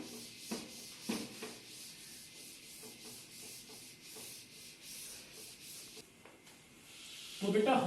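A board eraser rubs across a classroom board in repeated short scraping strokes, close and moderately loud, with a faint voice in the background.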